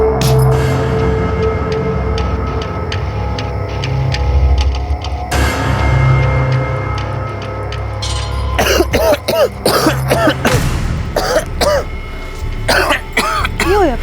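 A person coughs and clears their throat in a tense, hushed nighttime scene, the rough bursts rising over a steady low background hum.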